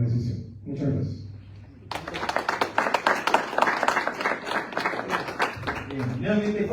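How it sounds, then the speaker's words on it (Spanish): A voice speaks briefly at first, then an audience breaks into dense, steady clapping that runs to the end, with a voice returning faintly over the last moments. "nuevamente fuerte las palmas"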